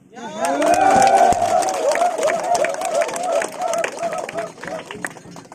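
Crowd at a regional gathering about forming a new southern regency in Pegunungan Bintang clapping and cheering, loud and sustained for several seconds, with a chanting or shouting voice carried over the noise.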